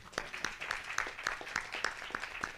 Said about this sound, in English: Can we get a round of applause for Ben back there?